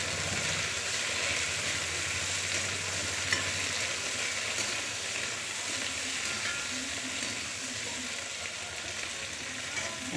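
Brinjal sautés in hot oil in a pan for a Tamil tamarind curry, giving a dense, continuous sizzle with scraping stir noises throughout, steady and close, no voices.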